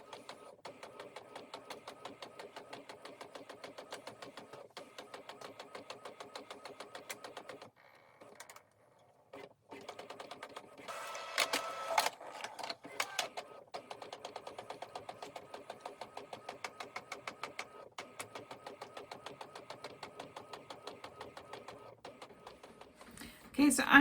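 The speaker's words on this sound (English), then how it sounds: "as you may be able to hear, we are printing away in the background" A small home inkjet printer running in a studio, giving a quiet, steady mechanical whirring and rhythmic chatter of the print head that pauses briefly midway, then resumes with louder clicks and feed noises.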